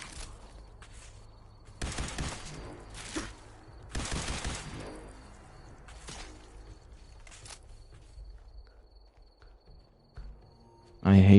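A few spaced, sharp gunshots ring out in Fallout 4, each separated by several seconds of quieter ambience, moderately loud and close.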